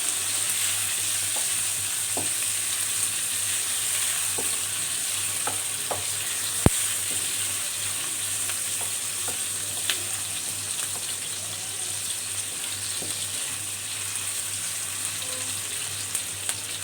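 Onions frying in hot oil in a pan, a steady sustained sizzle and crackle with scattered small pops and a faint low hum underneath, continuing without speech.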